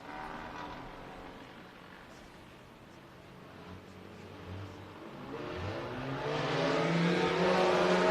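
Hobby stock race cars roar off at a heat race start at Crawford County Speedway, engine noise swelling from distant to loud as the pack accelerates.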